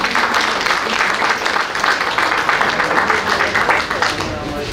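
An audience at a municipal ceremony claps in a dense, steady round of applause that runs throughout, fairly loud and close.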